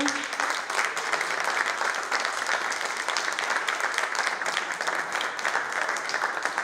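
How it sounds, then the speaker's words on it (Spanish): A museum audience applauds at the close of a goldsmith presentation, sustained steady clapping from many hands that stays even throughout. "vamos a despedir a los Retrafe con un fuerte aplauso"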